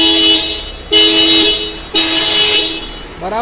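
A Tata Harrier's horn is tested during a general service: a sustained tonal honk with two fresh presses about a second apart, loud and close.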